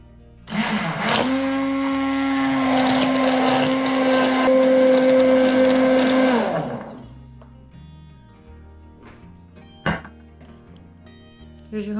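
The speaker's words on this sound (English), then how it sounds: "I've got my emulsion blender. I'm going to get it all mixed up." A handheld emulsion blender whirs loudly and steadily for several seconds while mixing a homemade body gel from three ingredients, then stops, followed by a sharp clink and quiet handling.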